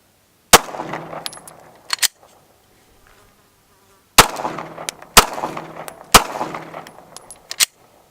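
Shots from a Gen5 Glock pistol ring out at close range as sharp, loud cracks, one then a second, a pause, then three more in quick succession with short echoing tails.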